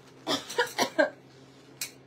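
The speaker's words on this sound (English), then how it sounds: "And I still cough because I've got congestion and drainage." A person with chest congestion coughs in a quick burst of four close, harsh hacks, followed after a pause by one more single cough, in a quiet indoor room.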